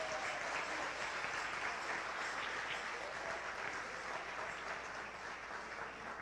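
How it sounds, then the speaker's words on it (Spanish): A church congregation applauds together, a dense, steady wash of clapping that fills the room at even loudness for several seconds without a pause. "Un aplauso a eso también."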